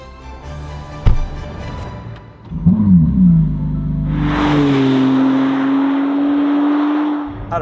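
A McLaren Artura Spider's 3-litre V6 hybrid engine starts and revs, then settles into a rising, sustained drone as the car pulls away and drives, loud and close.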